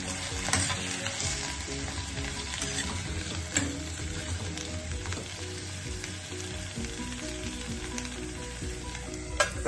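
Eggplant curry sizzles and fries steadily in a pan, salted and stirred, with scattered clunks and scrapes of the spoon over an unbroken crackle, close and fairly loud throughout.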